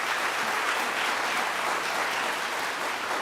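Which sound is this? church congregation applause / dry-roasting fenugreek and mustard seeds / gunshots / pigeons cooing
church congregation applause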